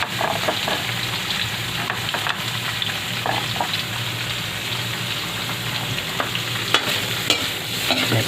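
Pancit miki bihon noodles with shredded chicken breast stirred and fried in a hot pan, a steady sizzle with scraping stir strokes throughout, close and fairly loud with no talking.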